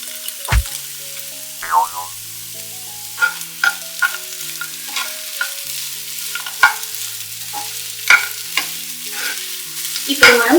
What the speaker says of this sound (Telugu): ఈ విధంగా ప్యాన్ నుంచి కేసరి రిలీజ్ అవుతున్నప్పుడు మనం దీనిలో డ్రై ఫ్రూట్స్ వేసి కలుపుకోవాలి.